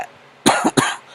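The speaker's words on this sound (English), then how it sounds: "Smoker's cough." A smoker's cough from a man, two or three loud, harsh, close bursts in quick succession, heard alone.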